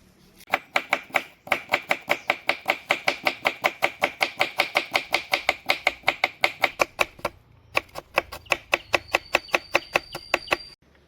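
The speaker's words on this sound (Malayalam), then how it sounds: "നമുക്ക് കുറച്ച് ഉള്ളി കണ്ട് നേരാക്കി എടുക്കാം ഉള്ളി അറിയണം വെളുത്തുള്ളി നേരാക്കണം" A knife chopping onions and garlic on a board in fast, even strokes, dozens of crisp close taps in a steady rhythm with a brief pause before the chopping resumes.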